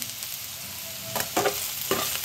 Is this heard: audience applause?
no